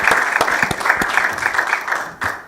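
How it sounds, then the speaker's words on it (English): An audience claps steadily for a couple of seconds, with a few sharper nearby claps and a brief swell near the end. "A round of applause, for all the speakers and for their excellent presentations."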